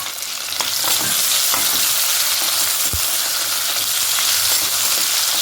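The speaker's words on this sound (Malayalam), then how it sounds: "ആദ്യം നമുക്ക് ഈ കുഞ്ഞുള്ളി അങ്ങ് ഇട്ട് കൊടുക്കാം. ഇത് നന്നായിട്ടൊന്ന് വഴന്ന് വരണം കേട്ടോ." Small shallots sautéing in oil in a pan with a little salt, for a Kerala theeyal curry: a steady, loud, close sizzle and frying hiss running throughout, with light stirring scrapes and no talking.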